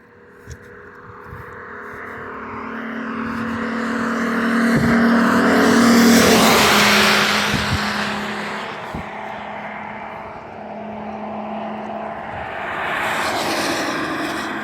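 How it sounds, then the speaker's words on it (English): A car approaches from a distance, swells to a loud pass with a broad rush of engine and tire noise, then recedes before another vehicle begins building near the end; steady hum and occasional clicks sit underneath. "there's a car coming"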